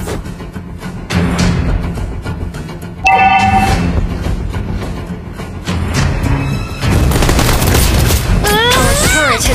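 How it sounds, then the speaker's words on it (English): Dense, chaotic game-battle sound effects from the mobile game Mobile Legends as a turret is destroyed: heavy booming impacts and blasts, rising whooshes and bright chimes near the end, loud and continuous, with an announcer-style voice in the mix. "Our turret has been destroyed."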